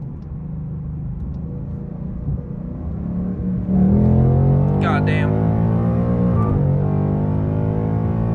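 A Ford Mustang S550 with a 10-speed automatic revs up hard and roars close by, rising in pitch as it accelerates, with a brief high tire squeal at about 50 mph and a man's exclamation.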